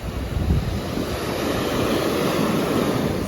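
Rough ocean surf rolling onto a beach, a steady loud wash of breaking waves with gusting wind buffeting the microphone throughout.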